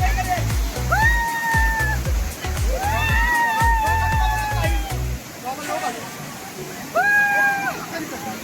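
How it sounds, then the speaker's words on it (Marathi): Water splashing at a forceful monsoon waterfall at Malanggad, a steady rush with thumping gusts and splashes, while voices call out loudly over the noise. "पाणी पडल्यामुळे हे धबधब्याला प्रेशर भरपूर आहे."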